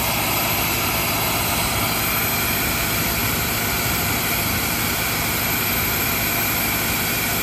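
The 4.5 liter V8 of a 2004 Porsche Cayenne S idles with the hood open, a loud, steady, broadband engine rumble recorded up close that holds unchanged throughout, with no voices.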